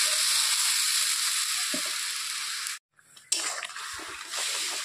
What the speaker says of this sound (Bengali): তো টমেটো পেস্ট সম্পূর্ণ ঢেলে দিচ্ছি